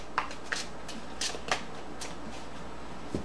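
Tarot cards being shuffled by hand: soft, papery riffles and flicks in several brief bursts over a low, even background hiss.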